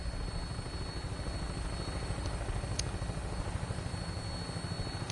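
Steady low rotor thump and engine drone of an aircraft lifting off in the Fallout 4 video game, a continuous rhythmic chopping hum with no talk.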